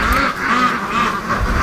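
Muscovy ducks moving toward a lake on a windy day call in a continuous raspy, breathy stream, loud and close, with no voices.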